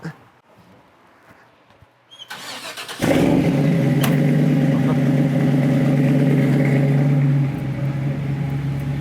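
A fuel-injected 1970 Ford F100 pickup engine cranks briefly, catches and roars to life, then settles into a loud, steady, rumbling idle close by.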